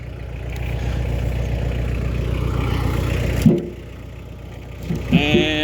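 A 2006 tractor engine idles with a steady low rumble that suddenly cuts off, leaving quieter outdoor background before a brief clatter.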